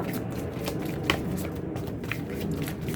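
Oracle cards drawn from a deck make a close, steady papery rustling and sliding, with soft flicks and a slightly sharper snap of card near the middle, alone without speech.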